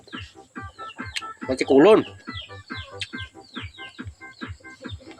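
Native chickens on a rural farm cluck repeatedly in a busy, close flock, with a louder rooster-like squawk near the middle, while people talk over the birds.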